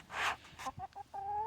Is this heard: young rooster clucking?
yes